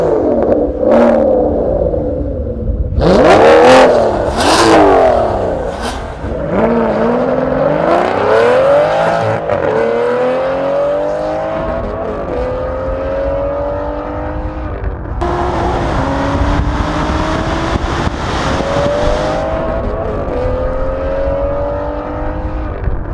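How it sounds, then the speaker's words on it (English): Mercedes-AMG GT S and Aston Martin GT12 drag racing on a half-mile strip, loud engines roaring and revving hard with rising gear-change sweeps, tires and exhaust filling the air continuously, no talk. "first up is the Mercedes AMG GTS versus the Aston Martin Gt12"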